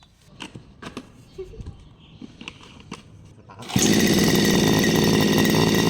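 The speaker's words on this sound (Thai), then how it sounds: "วันนี้มาตัดหญ้า นี่ไง เครื่องตัดหญ้าของนากิตะ" After a few seconds of small knocks and handling sounds, a Makita gas grass trimmer fires up and runs loud and steady with a buzzing, high-pitched roar while cutting grass.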